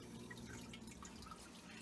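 Water drips during slow drip acclimation of imported female betta fish from Thailand. The small patter is faint and continuous under a steady low hum, with no voices.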